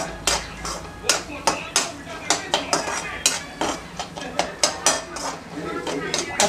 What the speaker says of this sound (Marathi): काजू आणि बदाम हे दोघंही टाकून पुन्हा व्यवस्थित थोडंसं 2 मिनिटापर्यंत आपल्याला परतवून घ्यायचं आहे